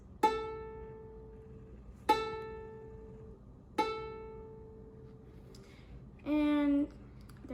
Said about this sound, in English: Now we're gonna do the last string, which is A, and it should sound like this.